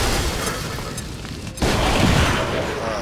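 A frag grenade goes off in an XCOM 2 battle, one heavy boom with a rumbling tail, loud and close over steady game background.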